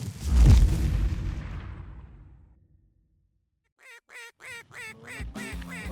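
Wild ducks and geese near a roost, heard as a few fading honks early on, then a brief silence, followed by a quick series of five or six sharp quacking calls close by.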